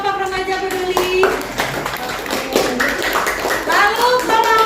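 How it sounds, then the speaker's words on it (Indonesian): Schoolchildren in a classroom clap for a student group, a ragged burst of hand claps mixed with high-pitched children's voices and chatter close by. "Kasih tepuk tangan untuk kelompok remaja peduli."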